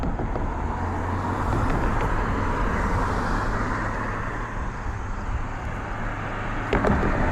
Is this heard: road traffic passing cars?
yes